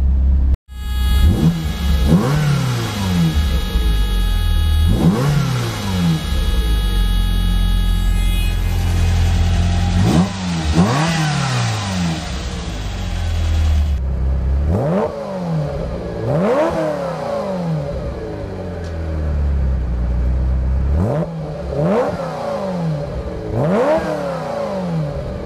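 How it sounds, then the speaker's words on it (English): A 1990 Ferrari 348TS engine, just started, is revved hard again and again with sharp throttle blips rising and falling over a steady idle, loud and close, with no voices. "Fantastic engine note."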